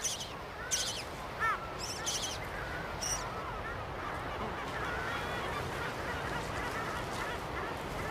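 Gulls in a busy Mediterranean colony give several loud honking calls early on, then fade into a steady wash of distant colony noise.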